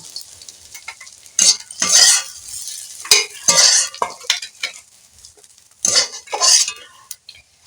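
Dried Bombay duck (shutki) fish frying crisp in a pan: a continuous sizzle broken by repeated bursts of stirring and metal utensil scraping against the pan, close and fairly loud.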